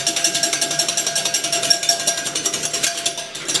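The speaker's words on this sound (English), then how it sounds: "what we are going to do is whisk this until it is nice and frothy" A whisk beats a single egg white in a bowl to a froth, making fast, steady metallic ticks and clatters against the bowl, close and unbroken.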